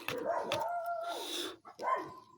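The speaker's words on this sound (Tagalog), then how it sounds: "May aso pa dito mga lods." Pet dogs bark and yip close by in a quick burst of sharp, whining calls, pausing briefly before another yelping bark.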